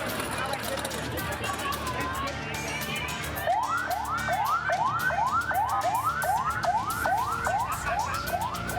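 Ambulance siren wailing in repeated rising sweeps, a dozen fast cycles starting midway, loud and close over a busy crowd scene with people talking, during a student evacuation in Ciamis, West Java.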